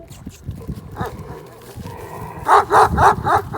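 A 12-year-old Kangal dog barks several times in a quick series of loud barks near the end, after some low muffled movement and faint background voices.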